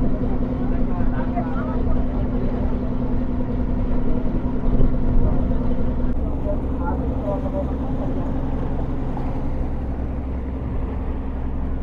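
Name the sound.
boat setting off toward Bhavani Island, Vijayawada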